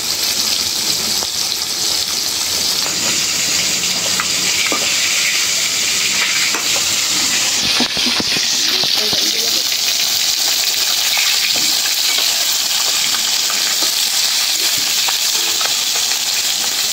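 Fish fries loudly in a pan of hot oil, an intense, steady sizzle with bursts of spattering and stirring scrapes, close up and without speech throughout.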